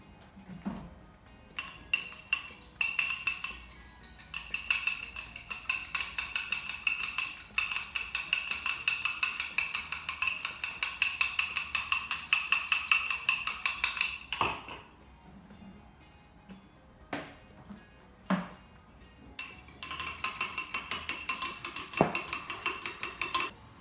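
Metal whisk beating mustard, vinegar and oil in a bowl for an emulsified sauce, a rapid close rhythmic clinking and scraping that runs steadily with brief pauses, with no talking.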